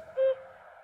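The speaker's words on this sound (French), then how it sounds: "Celui qui va nicher dans les nids des autres. C'est le coucou" A cuckoo call played from an old cassette recording gives one short, soft hooting note, heard alone over a faint hiss.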